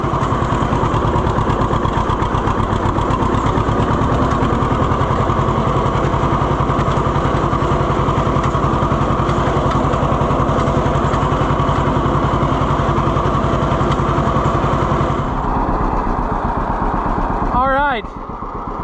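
John Deere Model B two-cylinder tractor running in a hay field with a loud, steady, close engine beat. It eases off near the end as a voice speaks.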